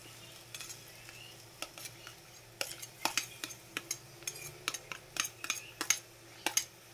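Finely chopped onion fries in oil in a kadhai, with a soft sizzle under a series of sharp metal spoon clicks and scrapes as it is stirred.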